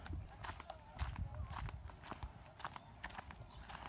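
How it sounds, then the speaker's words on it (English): Steady clip-clop of horse hooves on pavement, a quick repeating rhythm close by, with faint background noise and murmured voices mixed in. "Just riding my horses down the street, no big deal."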